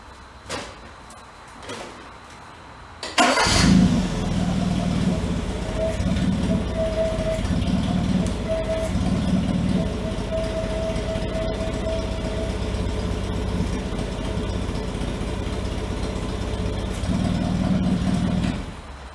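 A farm truck's engine starts with a sudden loud burst, then runs at a steady close idle and pulls forward, with a low rumble holding for about fifteen seconds before it settles.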